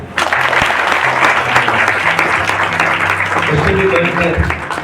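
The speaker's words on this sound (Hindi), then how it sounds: "सो आइए हम एक दूसरे के लिए ताली बजाएं।" A church congregation claps loudly for one another at a Hindi worship service, a dense continuous roar of applause with some voices and a low hum mixed in.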